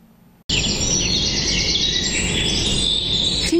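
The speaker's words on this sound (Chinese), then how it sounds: "早上醒来也许可以听一听鸟叫声。" A morning chorus of songbirds starts abruptly after a brief quiet moment, then continues as loud, busy, overlapping chirps and trills without a break.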